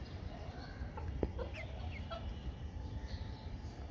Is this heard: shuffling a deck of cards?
no